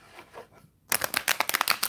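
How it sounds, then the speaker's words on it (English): A brand-new deck of tarot cards being shuffled: a quiet pause, then a close, rapid run of crisp papery riffles and flutters lasting about a second. "one more shuffle."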